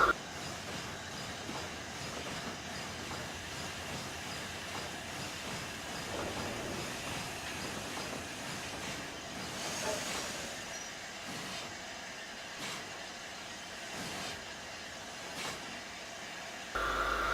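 A Black 5 steam locomotive running in a train simulator game, giving a continuous rolling rail rumble with faint rhythmic wheel clatter and occasional squeals, steady throughout with no talk.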